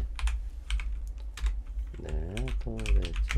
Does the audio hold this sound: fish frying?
no